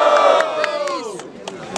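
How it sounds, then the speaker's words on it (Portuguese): Crowd at a student rap battle in Guarulhos, São Paulo, cheering and shouting loudly together in a short burst, with an MC's voice mixed in. "Quem achou que Baweb foi superior faz muito barulho"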